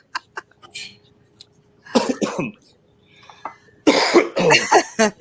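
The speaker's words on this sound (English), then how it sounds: "Now you got me coughing." A few short coughs at the start, then louder bursts of harsh coughing close to the mic, with quiet gaps in between.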